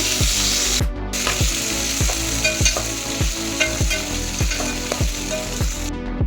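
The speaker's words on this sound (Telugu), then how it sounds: "అవి వేగిన తర్వాత ఉల్లిపాయలు పచ్చిమిరపకాయలు వేసి కొంచెం లైట్ బ్రౌనిష్ కలర్ వచ్చేంత వరకు" Onions and green chillies sizzle loudly in a pan for tomato rice, a dense close frying hiss. A spatula scrapes and knocks in a steady repeating rhythm about twice a second throughout.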